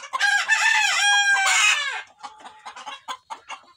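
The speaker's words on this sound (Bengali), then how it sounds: "এখানে দুটো মুরগি ডিম পাড়ছিল" Fayoumi laying hens clucking and squawking close by, a loud, drawn-out burst of calls in the first two seconds followed by quieter, scattered clucks.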